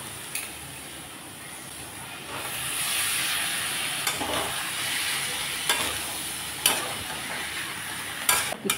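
Boiled potatoes and peas sautéed with chopped tomato, bay leaf and green chilli, a soft hissing sizzle with occasional spoon scrapes and taps against the pan, close, no speech.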